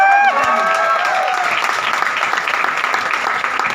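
A seated audience claps at a motivational gathering. A brief tonal sound fades out at the start, and then steady, loud, close clapping carries on for the rest of the clip.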